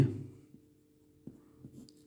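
Pen or chalk strokes writing out a math solution by hand, a few quiet separate scratches and taps at irregular intervals against a near-silent background.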